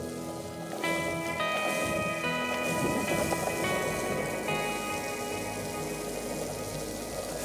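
Steady rain at about 3°C patters and hisses across surfaces, constant and fairly close, with no voices.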